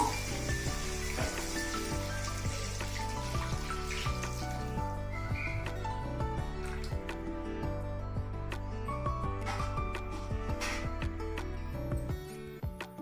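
Ingredients fry in a pan for ulavacharu, a Telugu horse gram soup, giving a steady, hissing sizzle that is strongest early on and sits under continuous loud background music throughout.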